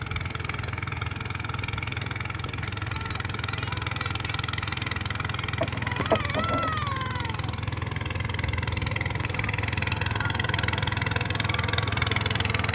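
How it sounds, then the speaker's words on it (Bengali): Motor-driven boats on a river in rural Bangladesh pass by, a steady low engine drone running continuously at moderate distance with a slight swell toward the end. "একটু পর পর মোটর চালিত নৌকাগুলো আসতেছে, আমার কাছে এটা ভালোই লাগে।"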